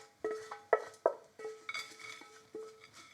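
Chettinad-style fried pieces are moved from a pan onto a plate, with a series of bright metallic clinks and scrapes of utensil against pan and dish, several distinct knocks close by and no voices.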